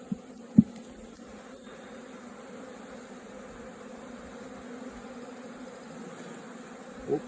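A freshly caught swarm of honeybees hums at a beehive with a faint, steady drone. Two soft knocks sound at the start and one near the end.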